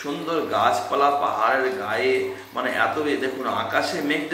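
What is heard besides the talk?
No everyday noises stand out.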